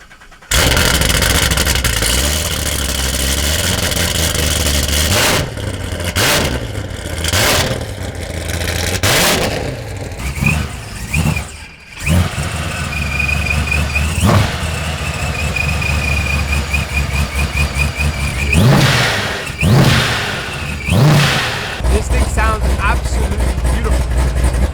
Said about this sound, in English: In the back you hear the beautiful V8, and in the front you hear my left nut, my ginormous Procharger.